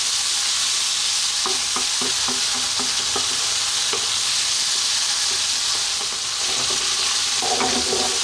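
Tuna pasta being stirred and fried in a pan over high heat: a steady broadband sizzle runs throughout, with clattering stirring knocks scattered across it, close and fairly loud, no talking.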